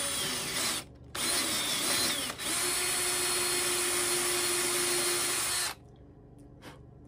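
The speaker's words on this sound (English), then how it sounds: "Then I'm gonna drill the rest of the way out here." A power drill bores into a wooden walking stick up close, whining loud and steady in two long bursts with brief pauses between them, then stopping into near silence.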